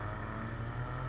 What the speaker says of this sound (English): Honda kicking in. That B-Tech, bruh.